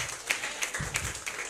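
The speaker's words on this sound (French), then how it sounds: "Clap for Jesus Christ." Congregation at a prayer service clapping for Jesus Christ, a brief burst of several sharp, irregular claps close by over a murmur of room noise.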